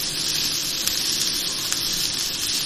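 Vegetables for chicken spring rolls are briefly stir-fried in a hot pan, giving a steady, close, even sizzle with no pauses.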